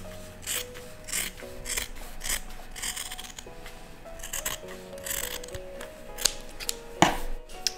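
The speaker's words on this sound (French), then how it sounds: "on va maintenant couper le surplus de tissu avant de retourner" Scissors snip excess fabric diagonally at the corners, giving close, crisp repeated cutting strokes with soft rustling of cloth between them, irregularly spaced with a sharper snip near the end.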